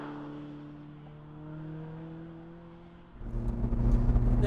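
Lotus Elise sports car engine while driving, a steady drone with harmonic hum that swells sharply near the end as the revs climb and grow louder, heard from inside the car with no talk.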